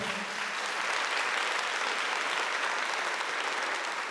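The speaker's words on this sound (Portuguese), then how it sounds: "pode aplaudir essa pessoa" A congregation applauds during a Catholic talk on the spiritual fruits of Eucharistic life, a dense, even wash of many hands clapping that holds steady and loud throughout with no talking over it.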